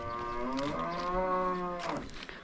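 A cow in a mountain village lets out one long, loud, close moo with a rising then falling tone, lasting about two seconds.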